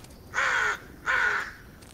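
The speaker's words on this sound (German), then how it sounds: "Oh, Raben heißt nichts Gutes." Two loud, harsh raven caws in Blair Witch VR, each a drawn-out croak of about half a second with a short pause between, close and clear against a quiet forest background.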